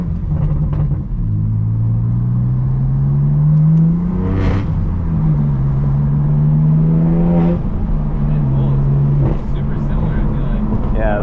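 BMW M4 F82 with downpipes and a full cat-back exhaust, revving in rising and falling sweeps over a steady loud engine rumble, with several distinct rev climbs close to the microphone.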